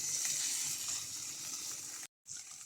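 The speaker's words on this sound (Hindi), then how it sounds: "मसालों से थोड़ा थोड़ा तेल सेपरेट होने लगा है और इसको थोड़ी देर भून लेंगे" Masala fries in oil in a pan for tandoori chicken tikka masala, giving a bright, steady, close sizzle that cuts out abruptly near the end, then resumes more faintly, with no one talking.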